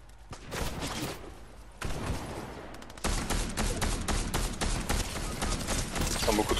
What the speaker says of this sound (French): Ouais, on me tire dessus.